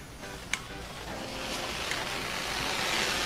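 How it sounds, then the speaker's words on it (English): A liquid nitrogen jet hisses steadily from a stainless steel thermos as a continuous, loud broadband rush with a sharp click near the start and no speech. "As soon as I screw on the top, it starts shooting out."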